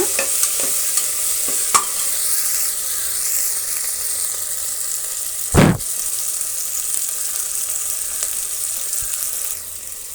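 Fenugreek leaf masala for green chicken biryani fries in a pan with a steady, close sizzle, broken by a few stirring scrapes and one louder scrape or clatter midway.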